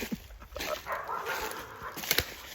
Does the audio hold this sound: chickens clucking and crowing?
no